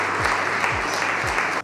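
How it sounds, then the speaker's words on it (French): An audience at an architecture award ceremony for timber-design winners applauds steadily for a moment, the clapping dense and close before it cuts off abruptly at the end, with faint low thumps underneath. "On peut les applaudir effectivement."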